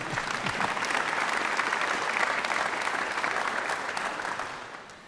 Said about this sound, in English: that's worth applauding for.